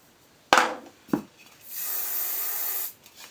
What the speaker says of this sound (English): Plenty of hairspray.